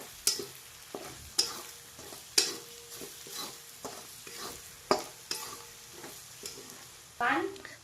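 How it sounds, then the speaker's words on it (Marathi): A homemade black masala with salt fries in a pan, and a spoon scrapes and stirs it in regular strokes about every second over a steady, close sizzle, with no voices. "हा घरगुती काळा मसाला आहे आमचा दोन चमचे मीठ असा सगळा मटेरियल चांगला असं तळून घेणार आहे"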